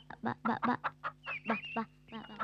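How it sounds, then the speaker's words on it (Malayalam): Large chickens cluck in a quick series of short, rhythmic bursts, close and fairly faint, with occasional voices mixed in. "എന്നാ വലിപ്പമായി കോഴിക്കൊക്കെ"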